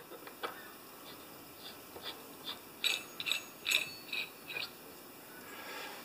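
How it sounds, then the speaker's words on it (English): A half inch ratchet turning a socket on a saw assembly gives quiet, close, uneven bursts of clicking, spaced out at first and then bunched together, with a faint hum underneath. "Half inch ratchet for the socket."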